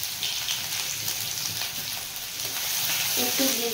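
Grated garlic sizzles and crackles steadily in hot oil in a pan already holding fried dried chillies, a dense close frying hiss for a dal recipe, with no voices.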